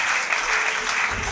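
A church congregation applauds in a dense, steady burst of clapping. It is loud, close and brief, with no speech.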